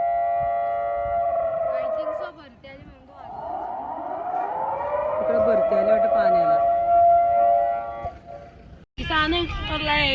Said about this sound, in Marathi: आम्ही सगळे तरी बाहेर आलो आणि सायरन वाजायला लागलाय.